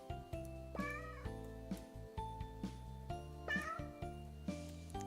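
Several cartoon cats in the Christmas video game 100 Christmas Cats meow in short, bright calls, roughly once a second, over steady game music with faint jingling.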